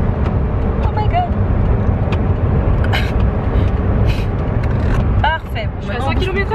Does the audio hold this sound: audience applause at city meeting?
no